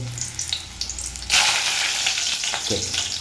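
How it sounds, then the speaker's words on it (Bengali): Onion and a few dried red chillies dropped into very hot oil, giving a low bubbling that bursts into a loud, dense sizzle and holds steady, close and alone. "যেহেতু তেলটা খুবই গরম আছে, এই পেঁয়াজটা দিয়ে এতে দিয়ে দেবো আমি গোটা কয়েক শুকনো লঙ্কাকে"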